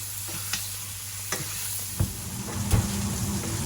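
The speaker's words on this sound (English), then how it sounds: "I'm just going to nappe foaming brown butter" Steaks being basted with foaming brown butter in a pan, a continuous close sizzle punctuated by several sharp spoon clinks against the pan, growing busier toward the end.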